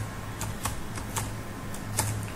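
Keys clatter on a computer keyboard during a Python coding session, a handful of light, irregular clicks over a steady low hum, close and fairly quiet.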